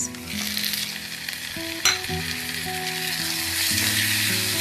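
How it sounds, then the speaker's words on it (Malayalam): Onions and tomato sizzle as they sauté in a clay pot for a Kerala-style beef curry, a steady close frying hiss with a soft scrape of stirring partway through and a faint hum beneath. "ഉള്ളി വഴിഞ്ഞ് വന്നിട്ടുണ്ട് ഇതിലേക്ക് തക്കാളി ചേർത്തി കൊടുക്കാം"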